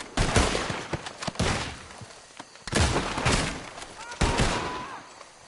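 Gunfight in Red Dead Redemption 2, with loud volleys of close gunshots in repeated bursts, separated by brief lulls, amid combat noise and possible voices.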